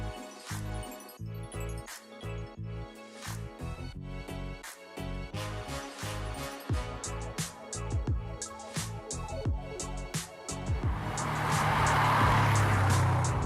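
A car fitted with Goodridge stainless steel braided brake lines sets off on the road. Music plays at first, then a loud, close wash of engine and road noise rises and carries on to the end.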